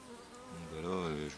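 Honey bees drone steadily at an open beehive during a varroa mite treatment, a close, continuous buzzing hum that swells slightly louder toward the end, with no talking.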